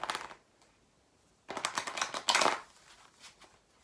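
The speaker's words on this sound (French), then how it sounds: "Le spectateur peut lui aussi mélanger le jeu." A deck of playing cards being shuffled at a magic trick demonstration: a brief riffle at the start, then a louder burst of crisp fluttering card snaps in the middle, fading to soft handling, with no talk.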